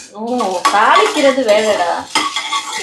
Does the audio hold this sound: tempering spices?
yes